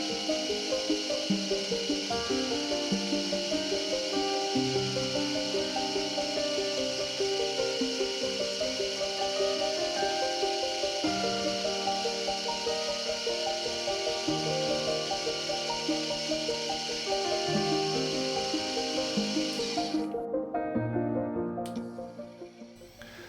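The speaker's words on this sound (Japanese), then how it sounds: "バンドソーの切断端は滑らかではないので、フライスで両側を削って平行にしていきます。" A milling machine faces both sides of a small bandsaw-cut metal part for a live steam locomotive, giving a steady whirring, chattering cut with a high tonal whine, continuous and close, then stopping near the end.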